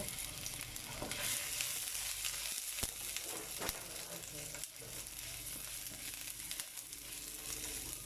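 White onion sizzles in hot olive oil, a soft, steady frying hiss broken by a few sharp clicks of a utensil stirring in the pan, quiet and with no talking.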